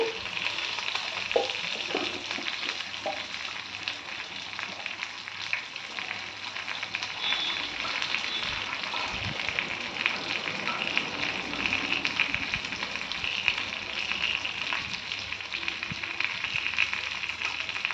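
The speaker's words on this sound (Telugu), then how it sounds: "తాలింపులోనే కొంచెం కొత్తిమీర కూడా వేసుకుందామండి." Coriander leaves frying in hot tempering oil for a drumstick sambar, giving a steady, moderately loud sizzle with faint crackles and occasional light stirring scrapes throughout, no voices.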